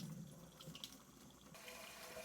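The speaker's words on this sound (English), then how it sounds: "we're filling the pot full of hot water" Hot water running from a tap into a pot in a kitchen, a continuous soft hissing splash with a slight change in tone partway through as the pot fills, faint and steady without talk.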